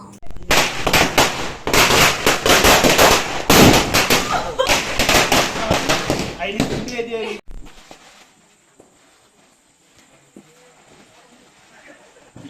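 A rapid string of loud firecrackers bursting and crackling for several seconds during Vishu celebrations, then the noise cuts off, leaving a quiet background with faint distant sounds.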